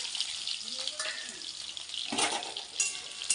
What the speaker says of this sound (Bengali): এখানে আর বাদ বাকি পেঁয়াজটা 5 ফোড়নটা একসঙ্গে দিয়ে দিলাম